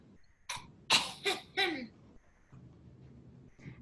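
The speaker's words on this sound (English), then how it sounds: "What's that cough?" A person gives a few sharp coughs in quick succession, close and clear, followed by quieter breathy sounds and a voice speaking briefly.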